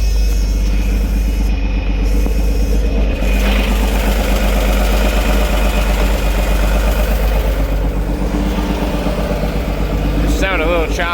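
A John Deere tractor engine idles high and choppy, a loud, constant, close rumble with a faintly uneven pulse that carries on without a break.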